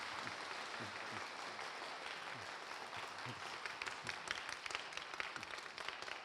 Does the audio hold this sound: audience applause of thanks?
yes